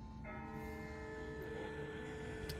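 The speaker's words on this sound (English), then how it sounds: "That's not the same bell as before. This one's further off." A distant church-style bell rings in The Walking Dead video game, sustained tones sounding from about a quarter second and holding steady over a constant background ambience, no talk.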